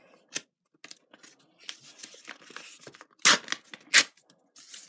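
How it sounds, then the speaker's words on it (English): Paper parcel being ripped open by hand: scattered close tearing and crinkling bursts, with two louder rips near the end and quieter rustling in between. "Literally just ripping this to shreds."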